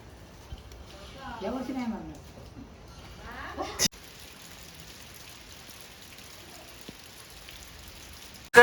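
Steady rain falls on a village home, a faint, even hiss running through the clip, with a person talking over it for the first few seconds and a sharp knock near the end.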